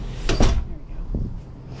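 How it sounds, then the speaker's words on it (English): A door in a one-bedroom villa at Disney's Old Key West Resort is pushed shut with a single solid thump and a short rattle, followed by a fainter knock and quiet room tone. "let me shut this door."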